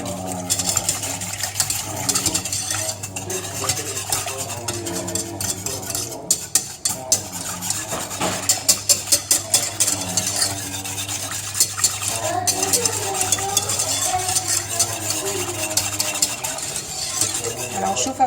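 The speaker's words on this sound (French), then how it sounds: "On mélange bien le tout." A whisk or spoon steadily scraping and stirring a mixture of cornstarch, lemon juice and sugar in a pot, making a continuous close rhythmic swishing and clinking against the sides, with occasional talk.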